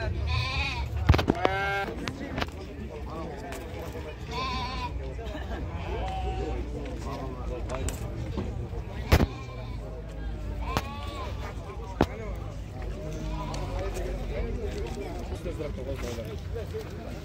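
Sheep bleat repeatedly at a busy livestock market for sheep and goats in Taraz, scattered near and far calls over steady crowd chatter and men haggling.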